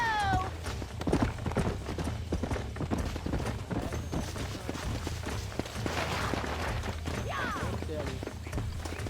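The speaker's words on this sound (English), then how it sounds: "Look at the mighty horses go!" A herd of horses gallops in Red Dead Redemption, with a steady rumble of hoofbeats and a couple of brief whinnies, and a voice now and then in the background.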